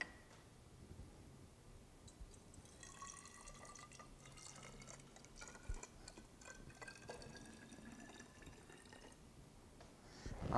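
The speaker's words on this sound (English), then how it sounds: "So I'm gonna go and pour in this first one." A chemical solution is poured into a container for a reaction, giving a faint, steady trickle and a few soft drips in a quiet room.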